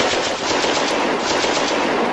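Dense, continuous gunfire from two groups of SS soldiers shooting at each other near an entrance, a WWII-era battle effect. The rapid crackling shots stay loud and steady for the whole stretch, with no voices.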